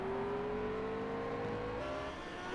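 Race car engines power out of a hairpin at the Dundrod Tourist Trophy circuit, a loud, steady, close roar whose pitch climbs under acceleration, with a second engine tone layered beneath.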